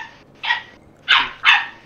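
A dog gives three sharp barks in quick succession, close and loud, with a short gap after the first and the last two nearly back to back.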